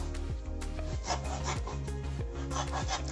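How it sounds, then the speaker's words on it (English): A short serrated hacksaw blade notches foam insulation with soft, steady rubbing strokes in a quick back-and-forth rhythm, faint and close with no talk. "So I'm just going to notch it down the middle"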